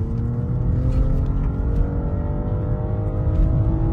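BMW X5 50e hybrid engine humming steadily while driving, a constant low drone with road noise and no voices over it.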